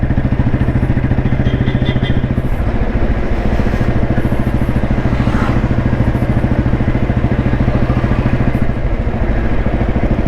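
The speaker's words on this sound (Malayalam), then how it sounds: "വണ്ടി യാതൊരു ലാഗും ഇല്ലാതെ, യാതൊരു ഇടിപ്പ്, എഞ്ചിൻ്റെ യാതൊരു ഇടിപ്പും ഇല്ലാതെ വണ്ടി സ്പീഡ് എടുക്കുന്നത്" A 1993 Royal Enfield Bullet motorcycle engine thumps in a fast, steady, even beat, loud and close, with no break throughout.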